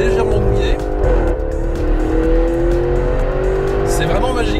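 An autonomous Audi laps a slightly wet race track, its engine a steady loud drone with tyre hiss and a shifting pitch throughout, close and continuous.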